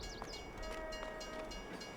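Train rolling into a station in a farming video game, a steady mechanical rumble with a sustained horn-like tone drifting through, moderately loud and continuous with no talking.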